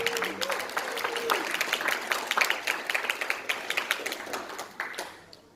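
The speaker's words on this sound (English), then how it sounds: "Give a big applause to Mr." Audience applause for a speaker at a business communication talk, dense clapping from a crowd that swells and then tapers off near the end, with faint talk mixed in.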